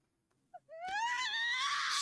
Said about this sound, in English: Suddenly, I heard a scream in the distance.